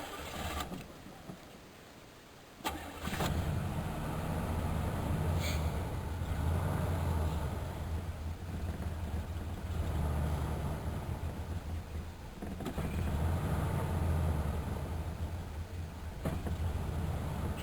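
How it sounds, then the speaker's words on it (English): A 1985 Chevrolet Caprice engine struggling to idle, a rough, uneven low rumble running steadily after an abrupt start, with faint irregular fluctuations and no talking. "It just will not idle."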